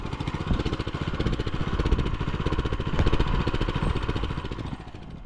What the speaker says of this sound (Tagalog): Ayan, nag-aberya pa yung makina,